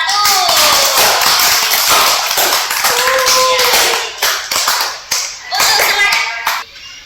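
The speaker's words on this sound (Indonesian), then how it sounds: "Tepuk tangan untuk kelompok 1." Classroom of fourth-grade children clapping for a group, loud close rapid clapping with bright taps, children's voices mixed in and the claps thinning into scattered bursts near the end.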